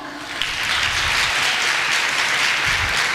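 A crowd at a public speaking event in Tirunelveli claps together in a thick, even burst that holds steady for about three seconds with no voices over it.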